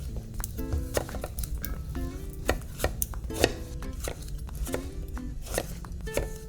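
A knife chops peeled cucuzza squash into wedges on a cutting board, giving a steady run of crisp, close knocks and thuds against the board, with small scraping sounds between cuts.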